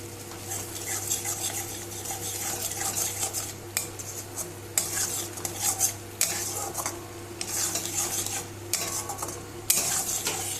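Masala with Maggi seasoning being stirred and sautéed in a pan: a spoon scrapes and clinks steadily against the metal over a continuous low sizzle, close and fairly loud, with no voices.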